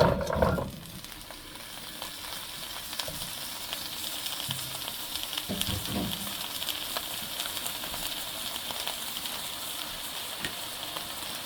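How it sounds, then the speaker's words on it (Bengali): Cauliflower pieces fry in a little oil, giving a steady close sizzle throughout with a few brief stirring clatters near the start and middle. "এখন একটু হালকা তেলে ভেজে দেব"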